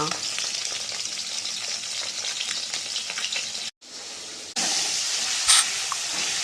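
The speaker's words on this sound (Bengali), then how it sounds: "এখানে মাছ ভাজা হচ্ছে" Fish frying in a pan, a dense close crackling sizzle with hissing steam, briefly cut off and resuming louder near the end, with no talking.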